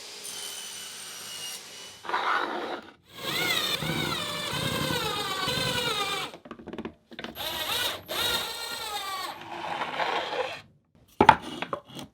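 Saw blade cutting through material while building a small case, rough rasping strokes in bursts separated by pauses, close and fairly loud, with a sharp knock near the end.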